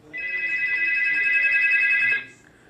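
A phone rings with an incoming call, one steady electronic ringtone tone sustained for about two seconds, close and clear, then cutting off abruptly.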